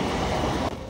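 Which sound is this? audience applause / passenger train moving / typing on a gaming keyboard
passenger train moving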